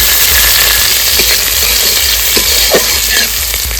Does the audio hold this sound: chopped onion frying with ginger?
yes